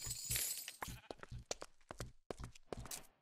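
Blocky Minecraft sheep bleat in a quick, choppy series of short, close bleats, several overlapping, with a brief shattering or breaking noise near the start.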